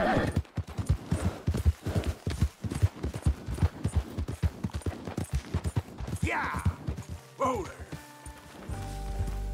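Horse hooves clip-clopping in a steady walking rhythm in the Red Dead Redemption 2 video game, close and fairly loud, with someone talking over them and a brief whinny-like sound near the end.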